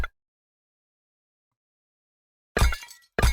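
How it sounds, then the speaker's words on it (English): Glass object shattering in a game, struck by a thrown brick: a short sharp clink at the start, then after a long silence a bright breaking crash and a final quick shatter, close and alone. "It hit the glass thing, it broke."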